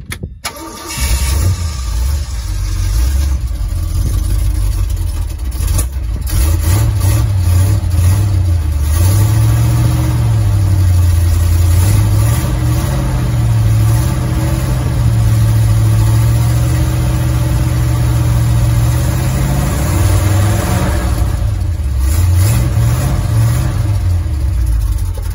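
A Ford F100 muscle truck engine cranks and catches, then runs with a steady, loud low rumble close by, with a few rises in revs near the middle and again toward the end.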